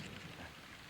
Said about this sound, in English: By the way, we're doing this in the rain right now.